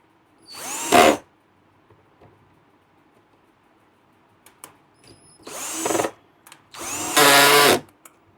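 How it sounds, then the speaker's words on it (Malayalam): A power tool, probably an electric drill or screwdriver, used while repairing a Sony home theater system, giving three short whirring bursts, the last one longest, close by, with quiet pauses between. "ചില മുഴുത്ത സ്ക്രൂ ഡ്രൈവർ വേണം"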